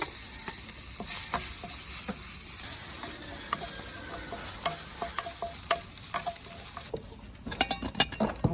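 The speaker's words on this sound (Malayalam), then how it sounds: "പാനക്ക് കുറച്ച് മുന്തിരി, കുറച്ച് അണ്ടിപ്പരിപ്പ് ഇട്ടെടുക്കാം." Cashews and raisins fry in ghee in a pan, giving a steady close sizzle with frequent clicks as they are stirred, a few louder scrapes and clinks near the end.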